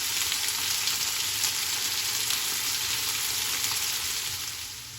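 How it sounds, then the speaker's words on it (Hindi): Potatoes fry in hot oil in a pan, a continuous bright sizzle that holds steady and then fades slightly near the end, with no voices. "2 मिनट टाइम लगतै आलू के भूजै में"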